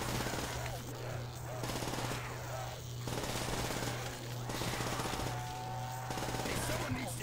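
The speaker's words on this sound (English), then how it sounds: "It's a small LMG, it's a light LMG. Light machine gun." Rapid bursts of light machine gun fire from Call of Duty: World at War Zombies on the Der Riese map, loud and sustained in repeated strings over a steady low game hum.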